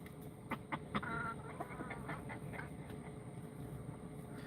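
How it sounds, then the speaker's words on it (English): Egg-laying backyard hens cluck in a quick scatter of calls early on, faint and somewhat distant over a steady outdoor hum, with no talking. "I don't plan on eating these chickens."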